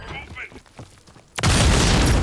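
A grenade detonates in a shooter video game, a sudden loud broadband blast that holds as a roaring, crackling wash, following quieter game ambience and faint talk.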